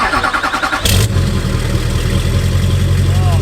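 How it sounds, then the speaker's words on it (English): A Duramax diesel pickup engine with a 4-inch exhaust and a muffler starts up, then holds a steady, loud, deep rumbling idle close by, with no talk over it. "I love the 4-inch exhaust on these trucks."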